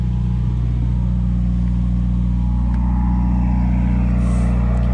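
A 2017 Subaru WRX Premium engine idles after a DW300C fuel pump install, with a loud, steady low rumble held evenly throughout and no revving or voices.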